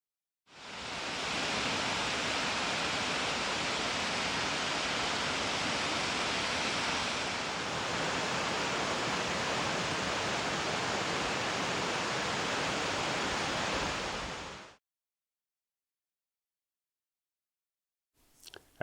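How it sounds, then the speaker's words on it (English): A waterfall in a glaciated canyon of the South Cascades pours steadily as a loud, dense, broadband roar for about fourteen seconds, heard alone without any talk, then cuts off abruptly into near silence. "And check out this waterfall."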